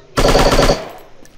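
Loud burst of rapid automatic gunfire indoors in the shooting game Striker, about half a second of fast repeated shots followed by a short fading reverberant tail.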